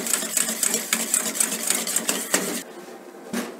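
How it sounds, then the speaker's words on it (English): A whisk beats hollandaise sauce with mustard powder in a bowl, giving a fast, steady run of close metallic scrapes and taps for a few seconds before it stops, with one last brief stroke. "Now I'll whisk it again."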